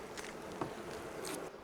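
Honey bees swarm in a crowded open hive, their soft buzzing hum running steadily throughout with a few louder passes close by.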